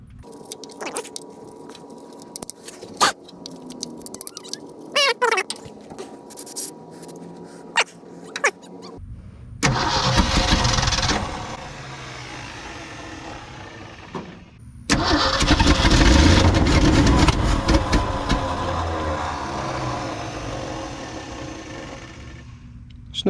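A truck engine on a hillside cranks with a struggling starter in two long, loud grinding attempts separated by a pause. Quieter clicks and handling noises come beforehand, and the engine does not catch.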